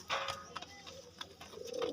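Soft cooing from a large male red Cheena pigeon in short repeated phrases, fairly close, over a noisy background with faint clicks.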